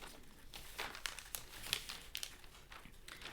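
A paper bodice pattern is folded shut along a dart, giving faint, close crinkles and crisp paper rustles in short bursts.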